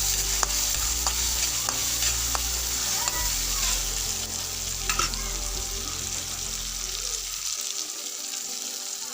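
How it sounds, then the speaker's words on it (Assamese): Onions and green chillies frying with a bay leaf in a pan for egg curry, a steady close sizzle with occasional stirring clinks that cuts off near the end, no voices. "এতিয়া পিঁয়াজখিনি বহাই দিছোঁ জলকীয়াৰ লগত"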